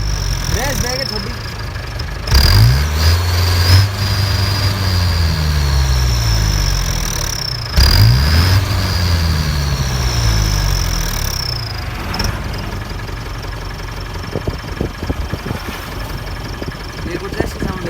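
A turbocharged Mahindra Jeep engine idles loudly up close and is blipped twice, each rev rising and falling with a thin turbo whistle riding above the rumble.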